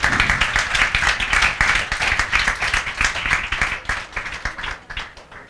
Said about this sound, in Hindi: उसके लिए जोरदार तालियां बजाओ।